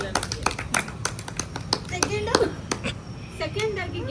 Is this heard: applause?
yes